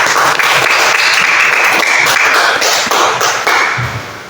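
A classroom of children clapping hands together, loud close rhythmic claps from many small hands at once, continuous for a few seconds before thinning out.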